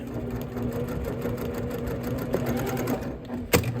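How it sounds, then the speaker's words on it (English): A sewing machine stitches fabric for a tissue box cover, running steadily with a rapid mechanical hum and rhythmic needle clatter, ending with a sharp click near the close. "I'm gonna sew right next to that white material"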